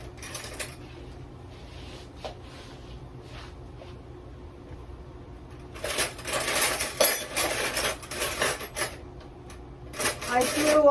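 Silverware clattering into a big bowl: quiet light clinks at first, then a loud run of jangling metal-on-metal clatter in the middle, followed by another short burst near the end.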